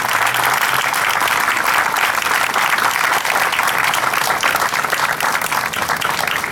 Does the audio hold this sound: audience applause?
yes